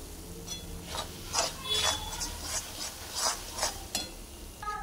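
Coconut barfi mixture with cardamom powder is stirred in a pan, producing a rhythmic scraping rasp of the spoon against the pan in evenly spaced strokes, close and moderately loud.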